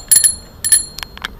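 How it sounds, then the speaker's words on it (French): The handlebar bell of an electric Vélib shared bicycle in Paris gives a few quick, bright metallic rings in fast succession, close by and clear, with no voices. "Alors, pour ce qui est de la sonnette,"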